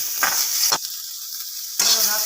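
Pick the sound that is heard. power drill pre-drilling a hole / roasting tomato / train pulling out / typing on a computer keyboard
roasting tomato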